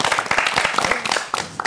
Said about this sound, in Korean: 오늘 박수 한 번만 해줘